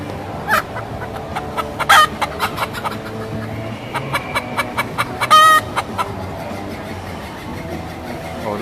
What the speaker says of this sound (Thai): นี่ไก่นะครับไก่